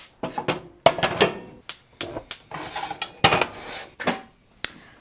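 Kitchen knife chopping onions on a cutting board, about a dozen sharp, uneven knocks in quick bursts, close and clear with no talk.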